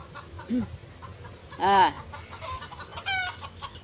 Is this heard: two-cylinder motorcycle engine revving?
no